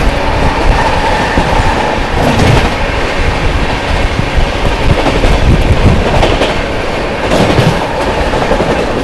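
The Sampark Kranti Express runs through Etawah Junction at speed, loud and close, with rapid clickety-clack of wheels over rail joints and a steady rushing roar of passing coaches.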